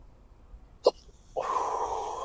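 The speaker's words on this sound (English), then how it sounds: "And then the hiccups." Hiccup after eating a Chocolate Warthog hot pepper, one short sharp close hiccup in near silence, followed by a sustained rustling noise.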